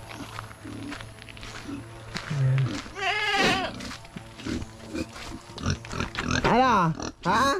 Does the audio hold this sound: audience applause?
no